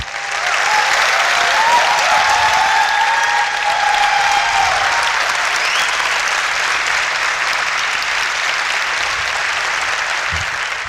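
Audience at a Fit India school week event claps in a loud, sustained round of applause, with a little crowd murmur and faint whistle-like tones early on, fading slightly toward the end.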